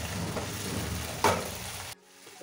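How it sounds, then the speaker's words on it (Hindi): Chicken pieces frying in a pan, giving a steady, close sizzle with a brief louder crackle partway through before the sound drops away near the end. "इसे भूनते हुए चार से पाँच मिनट हो चुके हैं"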